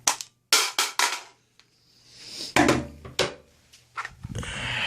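HEXMAG polymer rifle magazine dropped and flung onto concrete, giving a series of sharp, loud clattering impacts and bounces at close range, with scraping between hits.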